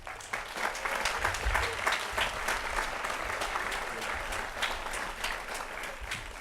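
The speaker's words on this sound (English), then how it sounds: "please give your fellow graduates a round of applause." Dense, sustained applause from a commencement audience honoring graduates, a broad wash of many hands clapping steadily throughout at moderate volume, with faint crowd murmur underneath.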